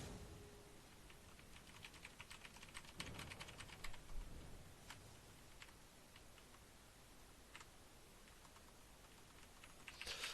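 Quick, uneven keystrokes clatter on a new mechanical computer keyboard, close and faint, with bursts of clicks over a low background hiss and no voices.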